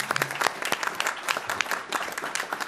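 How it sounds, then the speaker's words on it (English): A school board workshop audience claps for children, dense continuous applause with sharp individual claps standing out, close and lively throughout. "Let's give our children another round of applause"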